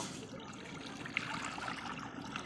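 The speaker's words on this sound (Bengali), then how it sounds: "কড়াতে জল দিয়ে দেব।" Water is poured into a wok set on a stove to heat for a Bengali-style egg tarka, making a soft, continuous trickle that stays faint and close throughout. No voices are heard.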